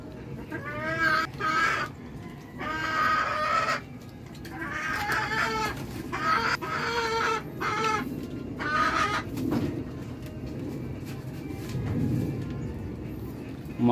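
Chickens cluck and call in bursts on a rooftop iron-sheet deck, their harmonic calls coming close and fairly loud over a steady low background rumble.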